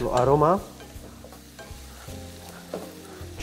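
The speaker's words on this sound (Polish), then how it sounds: "Chwilę gotujemy, żeby ocet połączył się z ciecierzycą." Chickpeas simmering with vinegar in a pan, a close sizzling and bubbling with a brief stirring scrape at the start, then a quieter steady hiss of frying.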